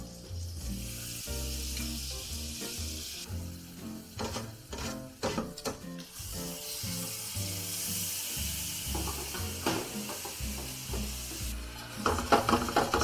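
Butter sizzles steadily in a pan while crêpes are being made in a French kitchen, a continuous frying hiss running throughout with tonal sounds layered underneath.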